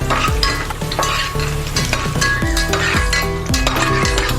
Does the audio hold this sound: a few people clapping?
no